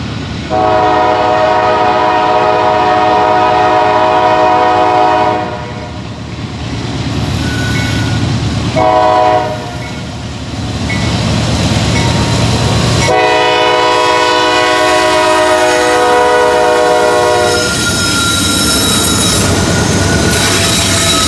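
A Norfolk Southern freight train rumbles past up close near the Walkertown former depot, its horn sounding in long sustained blasts with a brief break between, over steady wheel and rail noise.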